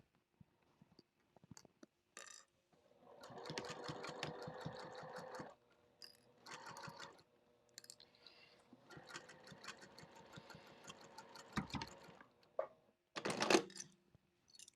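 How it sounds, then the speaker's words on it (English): A sewing machine stitches along the opening edge of a fabric basket in several bursts of steady, rapid whirring, separated by short pauses and small handling clicks, fairly close and alone. "So we're going to just stitch right along that opening edge."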